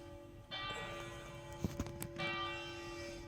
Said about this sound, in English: This is the 7 o'clock bell.